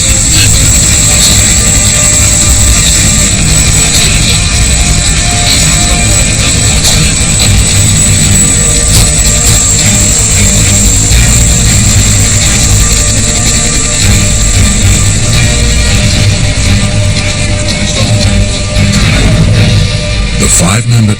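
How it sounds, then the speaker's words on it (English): A helicopter hovering about a meter above the ground holds a steady, loud rotor and engine roar, close and constant throughout, with a high whine running over the heavy low thrum. "the helicopter hovers a meter or so from the ground while the crew offloads"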